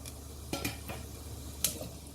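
Black cardamom pod and cumin seeds frying in hot oil in a pan for Sindhi-style chole, with a few clinks of a spoon against the pan over a faint steady sizzle.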